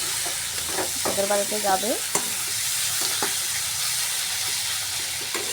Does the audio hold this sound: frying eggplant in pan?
yes